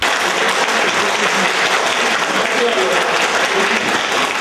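Dozens of teachers applaud the head of education at a meeting, a dense and loud burst of clapping that fills the room with a steady wash.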